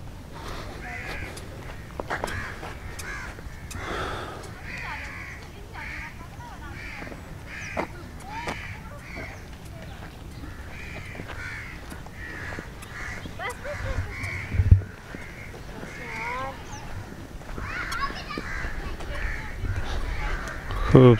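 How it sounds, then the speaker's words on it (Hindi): Crows cawing repeatedly around a lakeside park track at Rawal Lake in the morning, with other bird calls, footsteps and voices in the background and a brief thump near the middle. "परिंदे चहचहा रहे हैं"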